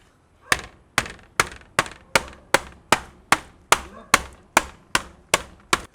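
A crisp, oven-baked dessert made with patis fish sauce is broken apart with about thirteen sharp, close, evenly spaced cracking knocks, each hit ringing out alone.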